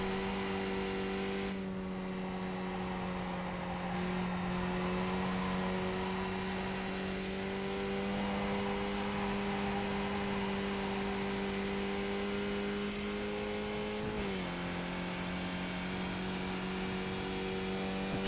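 Skip Barber race car engine holding a steady high drone at Suzuka in iRacing, one continuous loud tone that dips in pitch near the end at a downshift.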